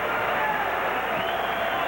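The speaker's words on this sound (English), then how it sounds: "they're on their feet here at the Oakland Coliseum, applauding the efforts of the Golden State Warriors" A basketball crowd on its feet at the Oakland Coliseum applauds the Golden State Warriors during a November 1994 game against the Knicks, a dense, continuous wash of clapping and cheering with a voice faintly audible over it.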